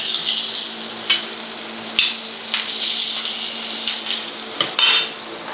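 Pork sisig sizzles and crisps in a pan, a steady hiss of frying broken by a few sharp scrapes and clinks as it is stirred around.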